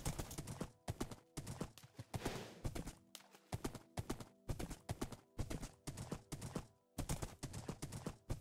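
A horse's hooves clip-clop steadily in the video game Minecraft, a fast, even rhythm of sharp hollow knocks that keeps going without pause, fairly quiet and with no talk over it.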